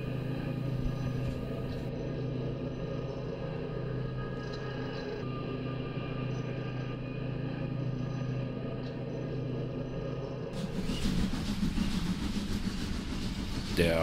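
A TT-scale model passenger train from Falkenberg, hauled by a model steam locomotive numbered 38-5860, runs with a steady, continuous mechanical rumble and rolling hum that grows louder and brighter toward the end.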